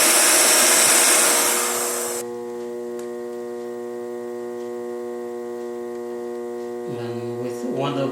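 A heat gun blows hot air onto a clay teabowl, a loud, steady rushing roar that cuts off after about two seconds and leaves a low electrical hum droning on alone.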